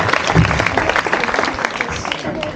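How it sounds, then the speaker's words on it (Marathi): A crowd at a Shiv Jayanti celebration claps in a loud, dense burst that tapers slightly over a couple of seconds. "यांच्यासाठी एकदा जोरदार टाळ्या होऊ द्या."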